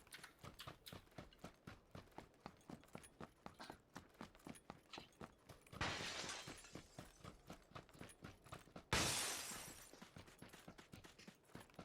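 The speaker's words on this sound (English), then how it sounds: "I hear glass breaking" In the video game PUBG, two bursts of breaking glass crash out over a steady run of rhythmic clicking and tapping, the second shatter a little louder than the first.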